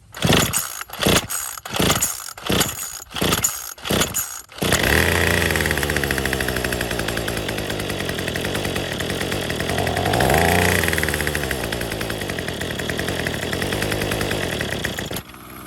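Troy-Bilt TB35 trimmer with a new aftermarket carburetor pulled over at full choke: several sharp recoil-start tugs, then the small two-stroke engine catches and runs loud and close, revving up and settling into a steady buzzing drone.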